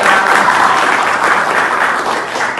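Applause for a student group during an academic coaching and supervision session in a school, a full, loud burst of many people clapping that continues evenly before easing slightly at the end.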